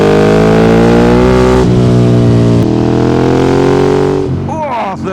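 A Ducati 848 motorcycle engine revs up loud and close in third gear, its rising exhaust note climbing through a gear change before easing off, with a brief whistling sound near the end.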